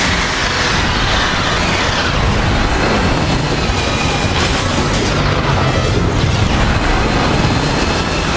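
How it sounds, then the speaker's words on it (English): Missile explosions in Transformers: War for Cybertron roar loud and close, a dense wall of booming blasts and rumbling debris that barely lets up, with no talking. "Watch those missiles!"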